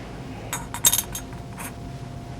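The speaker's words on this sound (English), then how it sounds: "I've got this stainless steel bowl here with some solvent in it. And in that, I want to soak all the small parts from the bolt" Small bolt and carrier parts from a rifle dropped into a stainless steel bowl of solvent, several sharp metallic clinks in quick succession with one last ting after a short pause.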